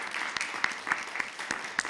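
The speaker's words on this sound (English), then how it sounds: "we should clap for all of them and their teams" A small gathering at a press briefing on a school bus audit applauds the policy team, with sparse, distinct claps at an uneven rhythm, moderately loud.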